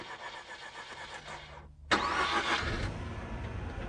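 A Mazda RX8 engine cranks briefly and fires up, settling into a steady idle that stays loud and close with no talking.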